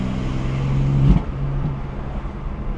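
A BMW M4 fitted with a Stage 2 Plus exhaust drones along at engine tone, then lets out a sharp pop as the throttle lifts. A lower, settled exhaust rumble follows, heard from inside the car with no talking.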